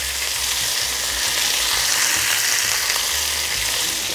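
Potatoes with spices and garlic frying in a pan, a loud, steady close-up sizzle that stays constant throughout, with faint scraping as they are stirred.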